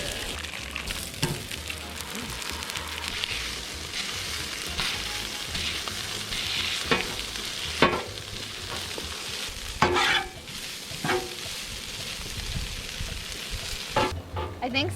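Cooked packaged pulled pork sizzles steadily on a Blackstone griddle set to low, a constant close hiss with occasional scraping stir strokes and faint background voices.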